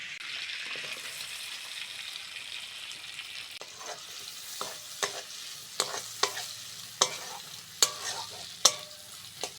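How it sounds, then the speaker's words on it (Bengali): Chopped onion fries in hot oil for a village-style prawn and taro curry, a soft continuous sizzle punctuated by increasingly sharp spatula knocks and scrapes against the pan, with no voices. "ওই তেলের মধ্যে কুজনো পেঁয়াজ দিয়ে দেবো"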